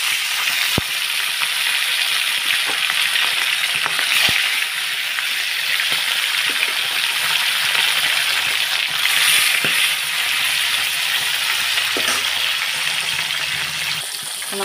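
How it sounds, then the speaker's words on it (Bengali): Small fish frying in hot white oil, a continuous close sizzle and crackle with occasional sharp pops and faint clicks, steady and unbroken throughout. "তেলটা গরম হয়ে গেছে, এবারে আমি এক এক করে মাছগুলোকে ভেজে নেব।"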